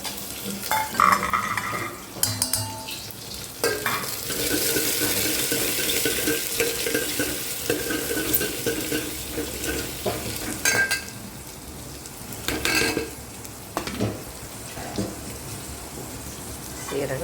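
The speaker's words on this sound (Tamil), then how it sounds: "வெறும் பருப்பு தான் கடுகு போட்டிருக்கிறேன் பச்சை மிளகா போட்டு தாளிச்சிக்கலாம்" Dal and mustard seeds tempering in hot oil in a pan, with green chillies to follow, make a loud continuous sizzle and spatter, broken by stirring scrapes and knocks against the pan.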